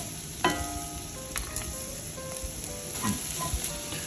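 Chopped shallot sizzles in a Staub cocotte, a steady close frying hiss with a few sharper clicks and scrapes as it is stirred, and no voices.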